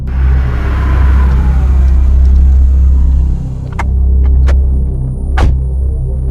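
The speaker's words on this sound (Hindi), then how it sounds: "विवेक ने ड्राइवर को गाड़ी रोकने के लिए कहा।" Car engine idling with a steady low throbbing hum and rumble as the vehicle comes to a stop at the roadside, loud and continuous, with a few faint sharp clicks near the end.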